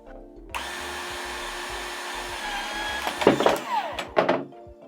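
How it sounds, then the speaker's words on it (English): A battery-operated PVC cutter cutting plastic pipe, a motor whirring steadily for several seconds, then sharp cracking and snapping bursts near the end. "This thing is a PVC cutter, a battery-operated PVC cutter."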